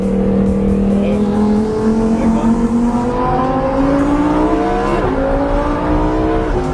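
Loud Porsche GT2 RS engine revving and accelerating, pitch climbing steadily through gears, close and continuous.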